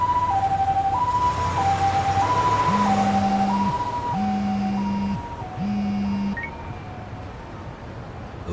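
An ambulance siren in the video game Lost Judgment wails in a steady two-tone alternation throughout, fairly loud over a low traffic rumble, with a second horn-like tone pulsing on and off in the middle.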